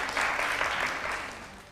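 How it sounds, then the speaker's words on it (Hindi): A small group breaks into applause, a brief burst of clapping that swells quickly and then fades toward the end. "पहले ही अपने लिए तालियां बजानी शुरू कर दी"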